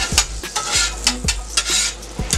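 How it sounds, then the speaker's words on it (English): Butter sizzling and frying on a hot steel grill, a steady bright hiss with sharp scraping and stirring strokes of a metal spatula recurring every half second or so, close and loud. "I'm putting a little butter on the grill"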